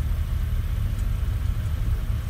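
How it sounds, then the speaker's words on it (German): A car engine runs at the Nürburgring with a steady, low rumbling drone. It sounds close and fairly loud for the whole short stretch, with no voices. "Motor läuft auf jeden Fall derbe gut"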